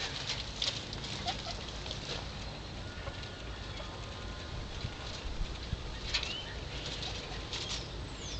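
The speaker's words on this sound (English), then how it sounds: "Let's go see what the guineas are up to." Guinea fowl in a garden give scattered chirps and soft squeaks among rustling and fluttering movement, a busy close patter with no talk.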